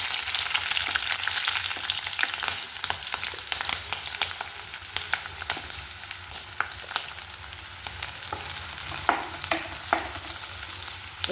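Chopped onions sizzling in hot oil in a pan for egg curry, a steady close crackling hiss with scattered pops and light stirring clicks throughout.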